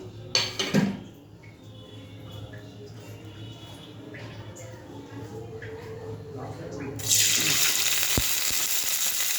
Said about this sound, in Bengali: সামান্য একটু তেল দিয়ে চিংড়ি মাছটা সাঁতলে নেব।